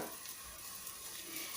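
Blended spice paste for Indonesian sayur lodeh sizzles steadily as it is stirred in a hot pan, a continuous close frying hiss with no talking.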